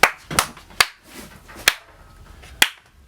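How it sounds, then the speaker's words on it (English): Single hand claps in a resonant demonstration hall with a wood floor at a cymbal factory, five sharp isolated claps spaced unevenly, each followed by a brief ringing decay. "So clap your hands"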